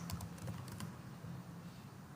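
Computer keyboard typing while writing code, a quiet run of soft key clicks over a steady low hum, with a short burst of taps early on and then fainter activity.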